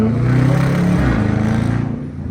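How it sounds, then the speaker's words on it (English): Dodge Charger R/T exhaust rumbling steadily while driving through city streets, a loud, continuous low drone that eases off near the end. "Y'all hear that exhaust?"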